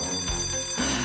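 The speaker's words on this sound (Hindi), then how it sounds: "घंटी बज गई।" A school bell rings continuously with a bright, dense metallic clang, steady and fairly loud across the whole moment with no voices over it.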